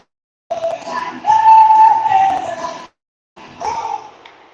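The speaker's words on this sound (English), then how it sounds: "Cody with a shot, stopped by Meager, holds on for a whistle" Referee's whistle at an ice hockey game, a long shrill blast rising above crowd noise in an arena, followed by a shorter second burst after a brief pause.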